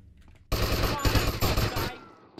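Rapid automatic gunfire in GTA Vice City erupts suddenly, loud and close, a tight stuttering burst of shots lasting under two seconds before trailing off.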